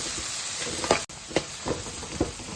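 Tomatoes, salt and ginger garlic paste fry in hot oil for pav bhaji, a constant close sizzle punctuated by four or five spaced stirring scrapes, with no voices.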